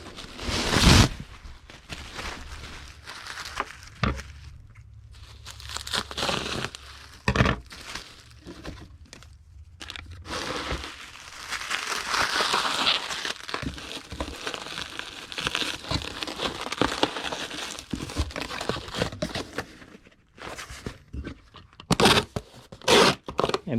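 A sheet of plastic bubble wrap is handled and cut in half, giving bursts of crinkling, rustling and scraping with a few sharper snaps, close by and uneven, with quiet pauses between.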